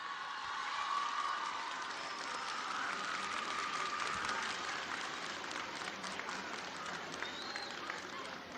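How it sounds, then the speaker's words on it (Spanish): Sustained applause from a large crowd greeting the president at a public assembly in Ecatepec, an even, dense roar of clapping that carries on unbroken with murmuring voices mixed in. "vamos a recibir también con un fuerte aplauso a la presidenta de la República"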